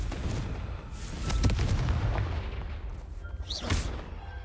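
Confringo spell blast in Hogwarts Legacy, a booming, rumbling explosive burst with crackling debris and a second sharp flare of the impact a couple of seconds later over a dense background roar.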